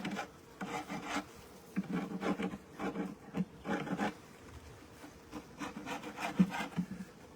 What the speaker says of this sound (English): scraping off the propolis